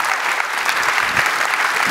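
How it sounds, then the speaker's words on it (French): An audience at a talk with a chef bursts into sustained, lively applause, a dense wash of clapping hands that stays loud and even throughout. "Il faudrait que vous l'applaudissiez, parce que c'est lui qui nous a présenté Alain."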